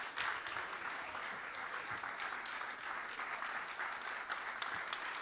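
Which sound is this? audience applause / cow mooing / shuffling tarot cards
audience applause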